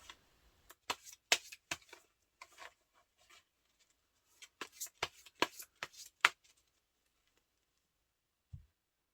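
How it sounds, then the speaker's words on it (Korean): Tarot cards being shuffled by hand, a run of soft close flicks and riffles in two clusters with quiet gaps, ending with a single dull tap, no voices. "카드 한번 뽑아볼게요."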